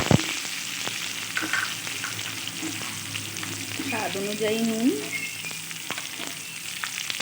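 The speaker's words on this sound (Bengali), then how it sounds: "এরপর এতে অ্যাড করে দেব টমেটো কুচি, দিয়ে আবারও একটু নেড়ে চেড়ে করে নেব" Cauliflower curry ingredients with chopped tomato frying in a pan, a steady sizzle with occasional spatula scrapes as they are stirred, while a voice speaks briefly over it.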